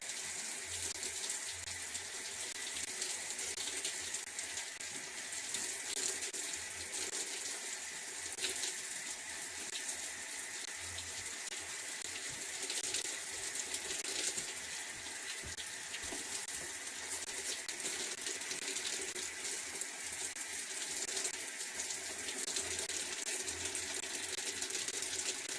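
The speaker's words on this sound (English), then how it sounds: "Go ahead and rinse it off for a minute." A tap runs steadily, water splashing in a sink while something is rinsed, a constant broadband hiss that continues unbroken throughout at even, moderate loudness.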